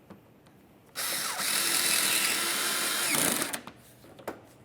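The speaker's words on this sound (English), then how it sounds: "Install your mounting screw." A power screwdriver drives a mounting screw into a front bumper bracket on a 2006-2011 Honda Civic, a loud, steady whir running about two seconds before tapering off, followed by a few faint clicks.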